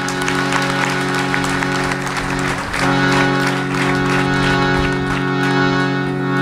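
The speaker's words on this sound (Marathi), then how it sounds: "त्यांच्यासाठी टाळ्या झाल्या पाहिजे." Sustained applause from a gathered crowd at a Guru Purnima religious event, dense and loud clapping that fills the whole stretch with a brief dip midway.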